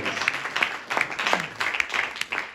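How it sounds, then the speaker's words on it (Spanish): Congregation at a church Bible study clapping in praise, a fairly loud scatter of many hands with uneven bursts and slight swells, heard on its own without talk. "Dele palmas y dele gloria a Dios."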